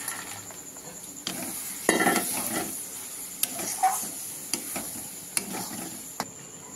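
Cow fruit peel fries in oil in a pan with a soft continuous sizzle, while a spatula is stirred through it, giving occasional scrapes and light metallic clinks against the pan.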